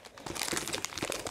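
Pokémon trading cards being shuffled by hand, a quick, close, papery riffle of crisp slaps and crinkles lasting about a second, quiet and alone.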